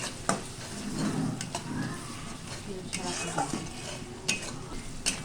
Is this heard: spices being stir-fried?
yes